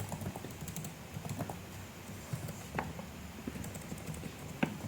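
Quiet clicks of a computer keyboard come in an irregular patter as code is typed during a programming lesson, with soft keystrokes scattered over a low background hum.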